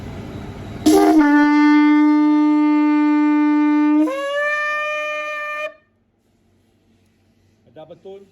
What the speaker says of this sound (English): Double tone, yeah, from a low to a high pitch, from a low G to a middle G, yeah, of the sound of this particular shofar.